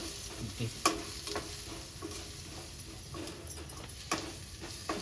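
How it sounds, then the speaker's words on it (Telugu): Ginger-garlic paste and spices fry in a pan with a steady close sizzle, broken by scraping stirs and a few sharp utensil clinks against the pan. "బాగా ఫ్రై చేసుకుందామండి. అల్లం వెల్లుల్లి పచ్చివాసన పోయేంత వరకు."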